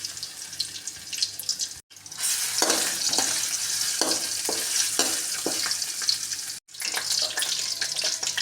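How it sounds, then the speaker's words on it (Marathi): Whole spices and ginger-garlic paste frying in hot oil for a chicken sausage pulao, giving a loud, dense, continuous sizzle close up, with faint stirring scrapes and two brief gaps where it cuts out. "तेल चांगलं गरम झालेलं आहे आणि त्यावरती आलं लसूणची पेस्ट,"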